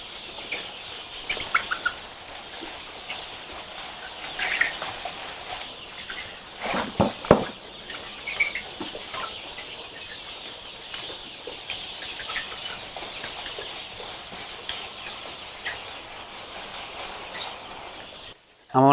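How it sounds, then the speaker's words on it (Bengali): Layer hens in a shed at a large poultry farm housing about 10,000 birds, a steady crowded murmur of clucking with a few louder squawks standing out and a faint hum throughout. "এখানে একটা লেয়ার মুরগির বিশাল প্রজেক্ট আছে"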